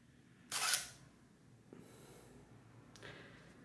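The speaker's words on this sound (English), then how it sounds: "the camera is really silent and is completely spoiled by the sound of the spring motor" A Konica Auto SE film camera's spring motor advances the film with a loud, close mechanical whir, followed by two fainter, shorter whirring bursts in an otherwise quiet setting.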